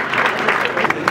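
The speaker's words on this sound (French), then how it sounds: "Applaudissez." A brief, dense burst of crowd applause at a school inauguration, loud and steady with no pauses.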